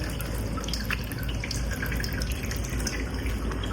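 Water runs steadily from a tap, with continuous splashing and dripping close by and no talking.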